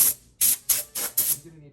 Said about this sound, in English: You just want to air chuck the body